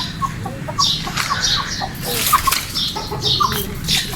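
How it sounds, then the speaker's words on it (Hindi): Chickens at a bird market, including a red rooster, cluck and scuffle up close, with short squawks and flapping wings over a busy background. "लाल मुर्गा बहुत शैतान है"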